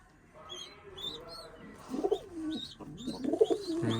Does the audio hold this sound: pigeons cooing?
yes